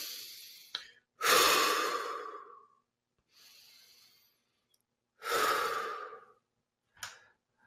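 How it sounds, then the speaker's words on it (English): Deep breathing during a relaxation exercise: a few long, loud audible exhales like sighs, with quieter inhales and silent gaps between them, close to the listener. "Take a couple deep breaths"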